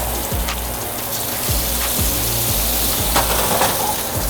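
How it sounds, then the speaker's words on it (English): Shrimp dropped into hot oil in a skillet set off a steady, close, continuous sizzle and crackle, with occasional brighter spits and pops rising over the frying hiss. "So we're just gonna add our shrimp to our hot skillet."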